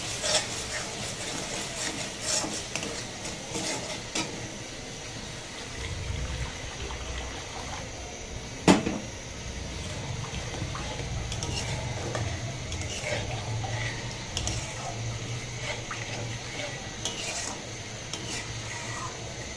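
Water is poured into a hot pan of oil and sugar and then stirred, giving a steady hiss and bubbling with scraping stirs and one sharp clank partway through, close and continuous.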